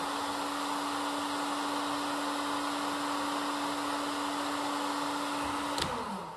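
A heat gun blows steadily with a constant hum and airy roar while shrinking heat-shrink tubing on light-gauge rigging, cutting off abruptly near the end.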